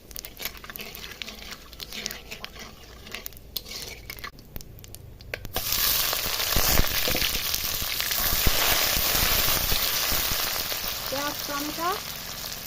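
Dried chillies sizzle and crackle in hot oil, a steady loud frying hiss that swells after a quieter start, with occasional stirring clinks.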